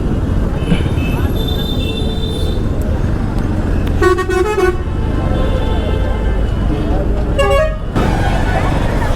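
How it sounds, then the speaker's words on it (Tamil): Heavy road traffic rumbles densely nearby while two loud, blaring vehicle horn honks cut through, and voices talk over the traffic. "ஐயோ இங்கே என்ன இவ்வளோ டிராஃபிக்காக இருக்குது?"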